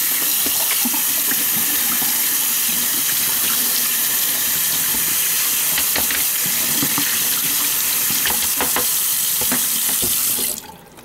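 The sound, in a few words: rinsing children's items under a running sink tap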